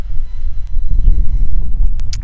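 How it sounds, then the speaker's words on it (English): Steady low rumbling wind buffeting outdoors at a graveside, gusting louder in the middle and continuing throughout, with no voices. "So it's a very windy day today"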